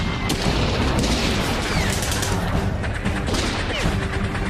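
Dense battlefield gunfire from soldiers shooting in a war action film, a continuous loud barrage of shots and booms with bursts that sound like rapid automatic fire, shouted voices mixed into the din.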